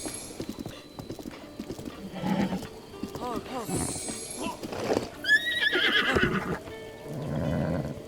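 A horse in Zelda: Breath of the Wild, with rhythmic clip-clopping hooves and several whinnies and neighs alongside game sounds, while a person talks over it at times.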